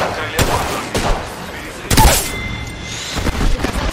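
Bursts of gunfire in the battle-royale shooter Apex Legends: several loud, close shots and booming reports spaced across a few seconds.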